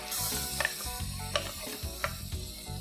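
Tomato puree being stirred into seared mutton in a hot pan for a mutton curry gives a steady sizzle and fry, with a few scraping clicks of the spoon against the pan.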